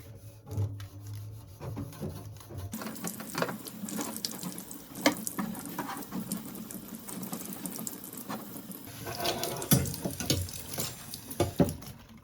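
An oven rack is rinsed under a running hot kitchen tap: steady splashing water with knocks and clatters of the metal rack, and the flow grows louder partway through, with no voices.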